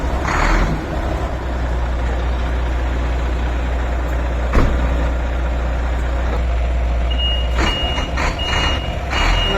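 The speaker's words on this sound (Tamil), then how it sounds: "வண்டி தான் மூவ் ஆகுது பாருங்க." A new ten-gear boom truck rumbles with a deep, steady engine drone while its reversing alarm beeps repeatedly, loud and close, with no talking.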